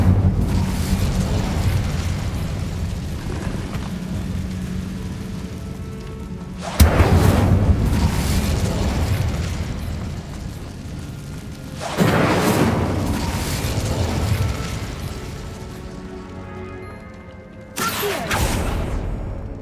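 Incendio fire spell bursts against a barricade in Hogwarts Legacy, a series of loud booming blasts with rumbling tails, three or four heavy hits spaced a few seconds apart over a crackling, roaring background.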